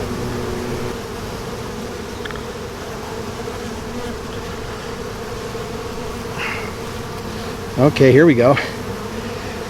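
Honey bees from an April package colony drone in a steady, close, continuous buzz during a hive inspection, while a person briefly speaks over the swarm near the end.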